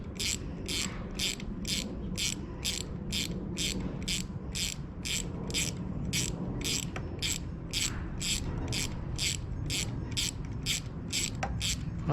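A ratchet turns the head bolts of a Viking 130 sewing machine, giving a steady run of evenly spaced clicks for about twelve seconds, close by and moderately loud, with no talking.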